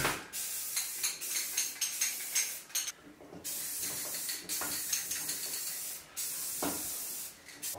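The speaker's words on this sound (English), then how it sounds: "now that my spray paint is dry, I'm going to use my Rustoleum matte clear coat" A spray can of Rust-Oleum matte clear coat hisses in long, loud, close bursts over shower tiles and metal trim, the steady spray stopping and starting several times with brief silent gaps between passes.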